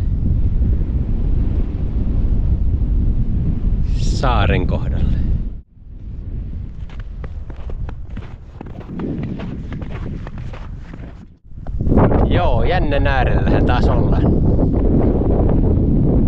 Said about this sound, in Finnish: Täällä tuulee